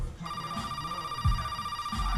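A phone rings steadily with a constant electronic tone and goes unanswered, sitting under low background rumble and faint movement sounds.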